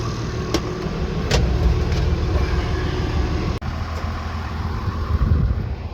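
An International Harvester 986 tractor engine runs steadily at a hay field, a loud continuous low rumble with a few faint clicks and one brief dropout in the middle.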